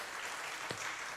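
Audience at a Sunday morning gathering applauds a magician, a soft, steady wash of clapping from many hands with no talk over it.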